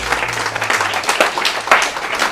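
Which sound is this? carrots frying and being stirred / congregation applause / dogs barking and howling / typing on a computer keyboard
congregation applause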